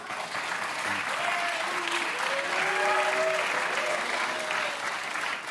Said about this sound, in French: des applaudissements essentiellement masculins